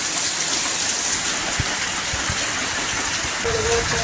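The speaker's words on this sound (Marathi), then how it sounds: "बाहेर जोरदार पावसाने सुरुवात केली" Heavy rain pours steadily, a dense continuous hiss with scattered drops pattering on a nearby surface, no voices.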